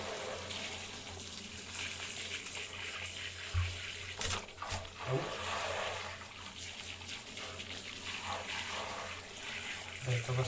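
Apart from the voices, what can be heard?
tap water running for bathing a chicken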